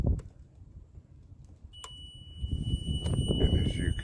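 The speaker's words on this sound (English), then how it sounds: "I get a beep out of the other one." A handheld circuit tester touched to the posts of a camper light fixture emits a steady, high continuous beep that starts midway and holds to the end, fairly clear over low rumbling background noise and handling sounds.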